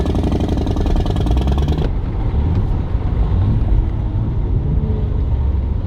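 Nissan Z with automatic transmission drops a gear, a loud engine blip and rev ending abruptly, then settling into a steady low rumble from inside the cabin with no one talking.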